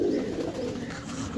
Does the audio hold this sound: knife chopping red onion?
no